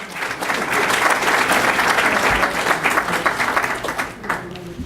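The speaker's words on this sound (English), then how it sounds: "Let's give them all a round of applause." A crowd at a public forum on civilian police oversight applauds in a dense, sustained burst, with many hands clapping together near and loud and a few voices underneath.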